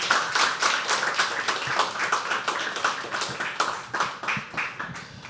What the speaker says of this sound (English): can I have a nice round of applause now?